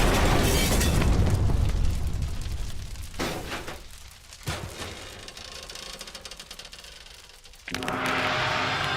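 A rocket launches into space in the video game Danganronpa: Trigger Happy Havoc. A loud, broadband roaring blast that eases to a lower rumble, then surges back strongly near the end.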